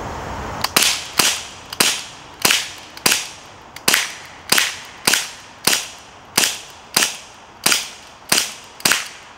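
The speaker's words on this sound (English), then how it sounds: "I'm going to shoot this spam tin just to see, you know, how well it penetrates." A Daisy Powerline 426 CO2 air gun fires repeatedly at a Spam tin, about fourteen sharp, loud cracks in a steady rhythm, each with a short ringing tail.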